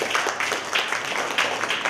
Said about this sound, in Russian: Аплодисменты Екатерине